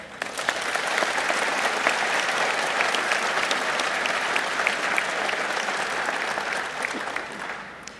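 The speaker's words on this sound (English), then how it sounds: "Please join me in giving the President a warm welcome with a round of applause." A large audience at an African land forces summit applauds the President's arrival, with steady, dense clapping that swells, holds for several seconds and then tapers off.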